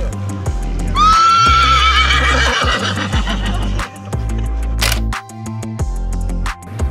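A horse in Cappadocia, Turkey, lets out a loud, close, drawn-out neigh that rises and then shakes into a wavering whinny, over a pulsing music backing with a brief click and rustle later on.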